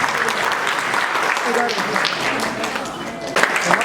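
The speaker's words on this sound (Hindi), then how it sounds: "एक जोरदार ताली होनी चाहिए" Loud applause at an event in Darbhanga's Jubilee Hall: a dense, continuous roar of clapping from a large crowd, with voices mixed in underneath.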